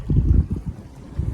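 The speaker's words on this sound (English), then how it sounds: "It's getting pretty windy." Wind gusting across an open lake, heard from a fishing boat, a low rumbling buffet that swells and dips in uneven bursts close to the microphone.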